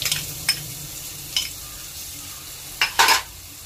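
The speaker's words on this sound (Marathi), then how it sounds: "आणि ही चांगली परतून घेऊया." Ginger garlic paste with red chili powder and turmeric being sautéed in a pan while making ragda pattice, a low sizzle broken by a few scraping stirs of a spoon against the pan, close and without talk.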